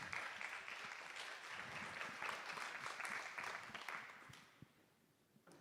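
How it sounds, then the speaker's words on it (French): Audience at an Occitanie entrepreneurship pitch event applauding a presenter, a dense roomful of clapping that holds steady for several seconds and then thins out toward the end. "Vous pouvez l'applaudir."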